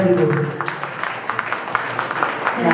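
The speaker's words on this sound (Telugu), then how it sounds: "అందరం ఒకసారి గట్టిగా క్లాప్ చేద్దామా?" An audience at a devotional song album launch event claps together, a dense patter of many hands that rises and continues steadily, with a voice briefly audible at the start.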